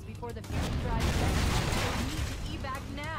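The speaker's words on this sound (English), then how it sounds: "Right, something's exploding over there." Rumbling explosions in a Halo game, a dense sustained roar of blasts and debris that swells and holds, mixed with game effects.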